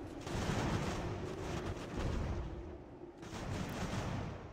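Continuous musket gunfire and distant artillery from a Revolutionary War battle in Ultimate General: American Revolution, a dense rolling crackle that stays loud throughout and dips briefly near the end.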